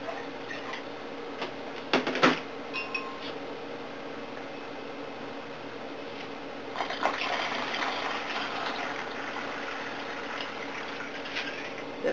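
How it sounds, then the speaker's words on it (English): Water poured from a container to dilute pineapple juice at a home kitchen counter, a brief splash early on, then a steady gushing fill for several seconds, close and moderately loud. "So I have to dilute it with a little water."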